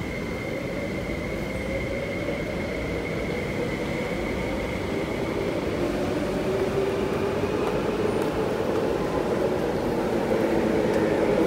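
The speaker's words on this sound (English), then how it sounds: "Wait for this train to leave." A train pulls away from a station on Hong Kong's East Rail Line with a continuous low rumble that slowly builds, a faint high whine running through it, with no talk.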